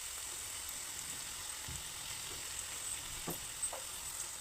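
Ivy gourd (dondakai) frying in a pan with chilli powder, a faint, steady sizzle with a few soft stirring scrapes and no talking.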